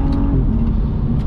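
A BMW 435i convertible with a Stage 1 tune accelerates hard, its engine a loud, steady low roar heard from inside the car with no talking.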